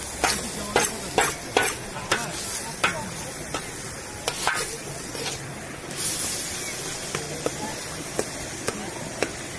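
Meat and onions for saç kavurma sizzle steadily in a pan, with a loud hissing fry broken by repeated sharp scraping clatters of a utensil stirring, close and busy with little talk.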